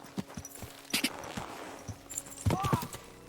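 Horse hooves clip-clop on the ground in Kingdom Come: Deliverance II, a few uneven, fairly close steps with a voice talking over part of it.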